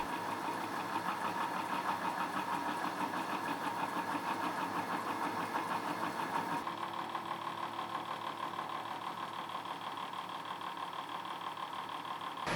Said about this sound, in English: Sorry about the exhaust fan noise